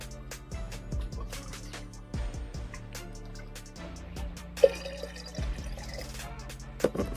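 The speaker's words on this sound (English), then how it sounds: "Make sure I fill all the cups up." Water poured into cups to fill them, a soft splashing, trickling stream running steadily throughout with a few louder splashes near the end, quiet and close.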